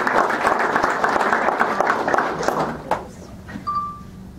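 Applause rings out at a Rotary club meeting for the new vice president, a dense burst of clapping from the crowd that tapers off quickly into scattered claps.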